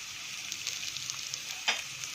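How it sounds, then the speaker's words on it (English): Cut taro leaf pieces frying in a pan, a soft, even sizzle crackling throughout, with one brief louder spatter near the end. "To this, I'm going to add these cut pieces. Just fry them for 5 minutes."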